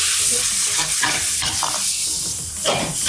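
Roasted cumin and coriander powders with red chili fry in a pan for an onion chicken dish, loud close sizzling cut by repeated scraping strokes of a spoon as the mixture is stirred.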